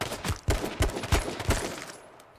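AR-15 rifle fire in the video game H1Z1: five or six sharp shots in a quick, uneven burst, loud and close, with no voices.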